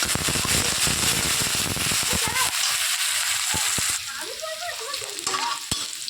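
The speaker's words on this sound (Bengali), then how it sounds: "উচ্ছেটাকে লাল লাল করে ভাজা হচ্ছে" Bitter gourd frying in oil, a loud close sizzle with sharp popping crackles and stirring scrapes that settles into a quieter fry partway through, with a voice talking over it.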